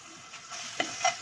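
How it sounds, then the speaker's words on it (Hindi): Garlic paste frying in oil with a soft sizzle in a pan and a couple of brief stirring scrapes, quiet and close, no talking. "अब लहसुन का पेस्ट इसमें ऐड कर देंगे हम, और बस ज़रा सा इसको फ्राई होने देंगे।"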